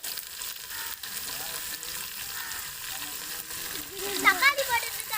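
Tomatoes going into a hot pan of sizzling oil while kootanchoru cooks, a steady frying hiss with a sharper burst of crackle and stirring near the end.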